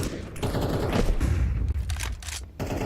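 Gunshots in a Counter-Strike 2 esports match, a dense rattling burst of rapid fire with sharp individual cracks, loud and close over game ambience.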